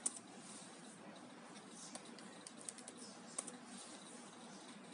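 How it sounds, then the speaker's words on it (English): Light, quick keystrokes on a 2020-2021 MacBook Air keyboard as a password is entered, soft irregular taps over a faint steady hiss, close and quiet with no talking. "I have to type the password"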